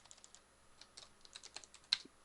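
A computer keyboard is typed on in quick, irregular clusters of faint clicking keystrokes while code is entered, with one sharper key tap near the end.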